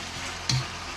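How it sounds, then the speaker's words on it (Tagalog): Vegetable soup at a boil is stirred in a pot, a steady bubbling wash with a couple of brief clinks of the spoon against the rim, alone and fairly close. "Ayan na, hinahalo ko na siya."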